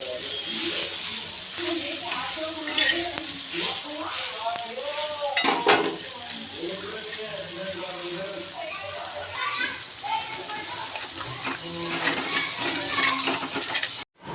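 Food sizzles and crackles in a hot pan with stirring scrapes, while a person speaks over the frying and children's voices sound faintly behind.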